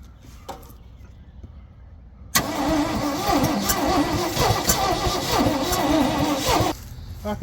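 Ford F600 dump truck engine cranking and trying to start, with a sudden loud whirring crank burst that runs several seconds before dropping off, after a quiet lead-in.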